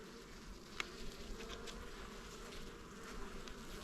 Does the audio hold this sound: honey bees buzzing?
yes